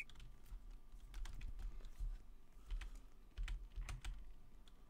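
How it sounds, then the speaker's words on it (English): Someone types fast on a computer keyboard during a volleyball game session, giving quiet, close, rapid bursts of key clicks with short gaps and no talking. "I was trying to type. I was literally trying to type."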